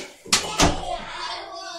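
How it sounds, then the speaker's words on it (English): A door being closed at home gives two sharp knocks in quick succession, the second the heavier slam, followed by a short fading rattle. "Let me close the door."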